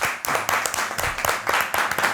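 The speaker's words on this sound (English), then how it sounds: "Round of applause for yourself." A small group of men clap together for a couple of seconds in a room, sustained rapid applause with uneven rhythm, close and loud, with no talk over it.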